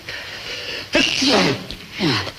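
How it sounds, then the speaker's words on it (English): A single sharp sneeze bursts out, followed by a breathy vocal sound and a second shorter exhale, close and fairly loud. "you sneezed"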